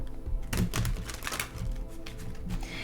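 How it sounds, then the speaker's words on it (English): Tarot cards being shuffled by hand, a run of rapid papery riffles and soft slaps close to the microphone, with no talking. "I want to shuffle them up really well here."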